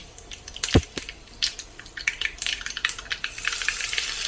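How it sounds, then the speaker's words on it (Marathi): Hot tadka tempering poured onto a green chili chutney, a sharp splash followed by a loud crackling sizzle that spreads and continues steadily, close up. "अशी चरचरीत फोडणी बसली पाहिजे"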